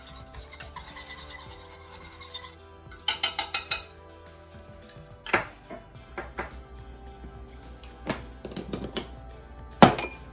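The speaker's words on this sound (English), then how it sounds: "I'm gonna add 1/2 teaspoon to it. Get that whisked in." Vanilla extract being whisked into a dairy-free chocolate pudding mixture, with scraping, rasping strokes against the bowl and bursts of quick clinking taps, close and fairly quiet, with no talking.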